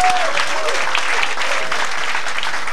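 Concert audience applauding, a dense, loud wash of clapping filling the room, with a brief tone from an instrument fading at the start.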